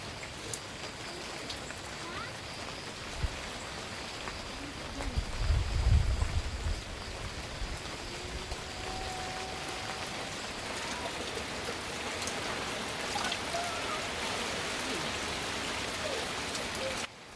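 Rain pours down steadily in bad weather, a constant wash of broadband hiss with a brief low rumble midway, continuing alone without voices.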